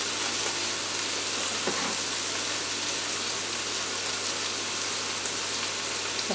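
Garlic frying in a stir-fry pan for a Thai-style spicy jasmine rice and vegetable dish, a steady, even sizzle that runs unbroken throughout, close by and with no voices.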